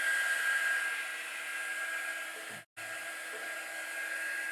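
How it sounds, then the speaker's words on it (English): A hair dryer blows a steady, close whooshing stream of air over a peeled decal, cutting out for a split second midway before resuming at the same level. "Hit this with a dryer."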